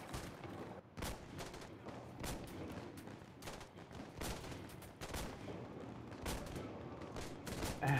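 Video game gunfire in a team shooter match, repeated sharp shots and bursts spread irregularly through the whole stretch, loud and close against a dense battle background with no talking.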